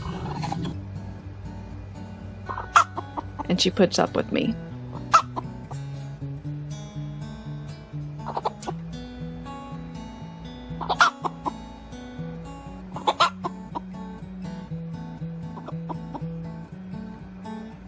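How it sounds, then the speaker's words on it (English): A hen in a backyard flock clucks in several short, close bursts spread across the stretch, with quiet gaps between them, while a person talks nearby. "That's a chicken right there."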